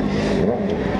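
A motorcycle engine revs loudly and continuously at close range, a steady droning roar with no voices.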